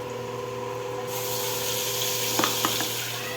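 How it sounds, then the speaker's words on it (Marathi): Ground masala paste frying in oil in a pan, a steady sizzle that turns louder and brighter partway through, with a few sharp spoon clinks near the end. "पूर्ण भाजून मसाला करून घ्या."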